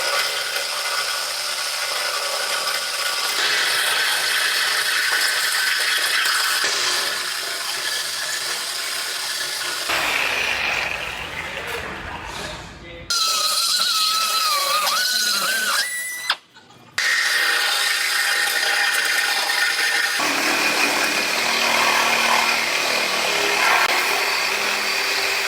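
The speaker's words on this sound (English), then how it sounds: "I'm gonna cut this frame right here on both sides" A power tool cuts through a steel truck frame, a loud, sustained grinding whine that breaks off for pauses and restarts several times, heard close with no talking.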